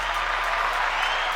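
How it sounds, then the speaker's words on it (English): A brief burst of steady clapping and cheering fills the space evenly from start to finish, loud and dense like a crowd's round of applause. "give yourself a round of applause"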